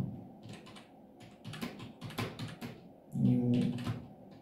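Someone types a paragraph of HTML on a computer keyboard in short, irregular bursts of close key clicks, with a louder, denser cluster of keystrokes near the end.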